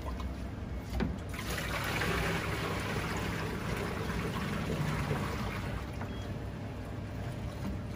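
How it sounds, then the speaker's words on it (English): Liquid waste from a BD LSR Fortessa X20 flow cytometer pours into a 10 litre waste cube, a faint, steady trickling and sloshing stream that runs continuously in a quiet lab. "You empty the waste in the 10 liter waste cubes."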